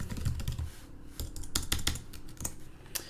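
Rapid, uneven clatter of keys on a computer keyboard as a command is typed into a terminal, with bursts of clicks and brief pauses, close and clear with no talking.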